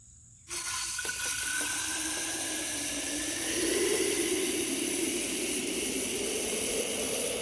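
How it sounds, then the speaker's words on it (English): Fermented tomato seeds are rinsed under running water, a sudden steady hiss and rush of tap water filling a container, close and continuous, its pitch rising slightly as the vessel fills, with no talk. "Let's do one more rinsing, make sure we got it all out."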